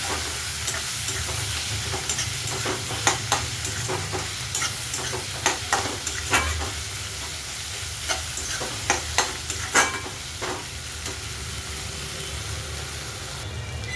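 Onion and tomatoes fry in oil in a pan, a dense continuous sizzle broken by repeated scraping and clinking strokes of a spoon being stirred through, loud and close, with no voices.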